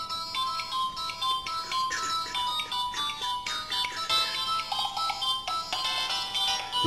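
A mobile phone alarm ringtone repeats its bright melodic pattern steadily, fairly loud and close, with no talking.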